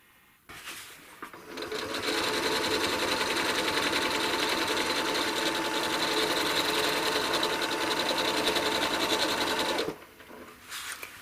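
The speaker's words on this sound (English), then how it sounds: "What I'm going to do is I'm going to stitch halfway down here, free motion, and then stitch into this hole and back out" A sewing machine runs at a steady, fast, buzzing clatter for about eight seconds during free-motion quilting on a quilt, starting and stopping cleanly with quiet moments on either side.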